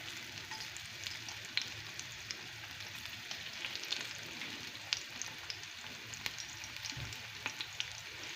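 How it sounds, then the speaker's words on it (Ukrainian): Steady crackling sizzle of garlic frying in about three tablespoons of oil in a pan, fairly quiet and continuous, with a few sharper pops and no talking. "І смажу його до золотавого кольору."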